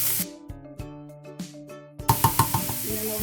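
Ground meat for spaghetti sauce browns in a pot, with a soft sizzle under a steady tonal background and a run of sharp, evenly spaced knocks from a utensil breaking it up near the end.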